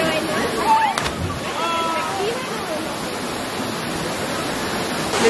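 Creek water flows into the deep swimming pool at Quebrada Valencia near Palomino, a continuous close rushing and sloshing wash with a brief voice near the start.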